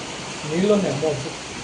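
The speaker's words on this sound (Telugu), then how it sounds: "వర్షం బాగా పడుతుంది" Heavy monsoon rain falls around a house, a steady broadband hiss that runs the whole time while a person talks briefly over it.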